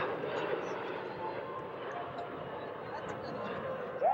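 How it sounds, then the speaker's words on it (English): F-16 Fighting Falcon and MiG-17 Fresco jets pass over a 1991 military air show at Barnes ANGB, giving a steady, broad jet roar that stays loud throughout and swells slightly near the end. "the F-16 Fighting Falcons and the MiG-17 Fresco. Give them a big wave as they go by"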